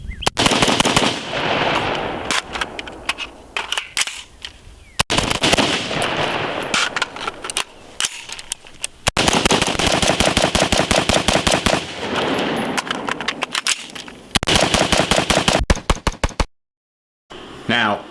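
Grey Ghost Precision Specter Light rifle firing in rapid strings of sharp, loud shots, several bursts separated by brief pauses, close up, ending in silence.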